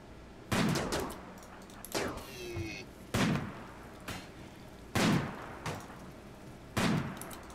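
Gunfire in the colony-sim game Rimworld: five sharp, loud shot bursts at roughly even intervals, each a crack followed by a short rattling decay, with a faint whistling projectile sound between the first two.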